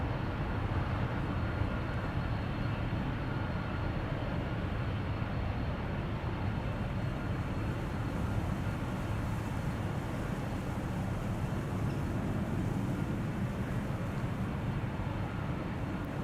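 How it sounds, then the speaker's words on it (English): A British Airways airliner taxis out at Amsterdam Schiphol Airport, heard as a steady, distant jet-engine rumble and whine that holds level throughout with no talking. "You might be able to pick up the sound of the BA that is pulling up and is scooting out of here."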